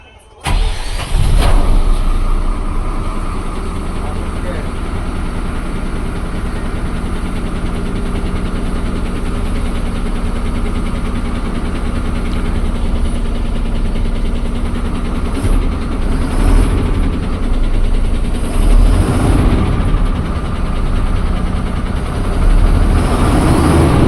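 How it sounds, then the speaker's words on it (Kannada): An Ashok Leyland 2825 BS6 ten-wheeler tipper truck engine starts with a sharp catch, then settles into a loud, steady diesel idle with a deep rumble, swelling into a rev near the end. "ಸೌಂಡ್ ಹೇಗೆ ಬರುತ್ತೆ ಇಂಜಿನ್ ಸೌಂಡ್ ಕೇಳಿ ನೋಡೋಣ"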